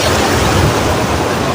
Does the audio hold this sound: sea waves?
yes